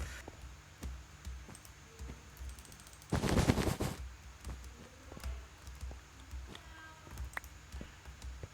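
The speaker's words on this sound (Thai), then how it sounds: "มีระเบิด ผมเหมือนได้ยินเสียงระเบิด" An explosion in the Minecraft Hypixel Bed Wars game bursts out once, loud and close, about a third of the way in, standing over a low bed of clicks and game sounds.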